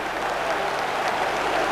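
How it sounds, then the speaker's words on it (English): Stadium crowd at an Italian Serie A football match in 1989–1990 applauding a midfielder's goal, a steady broad wash of clapping and crowd noise filling the short stretch without pause. "and the applause still ringing round the stadium"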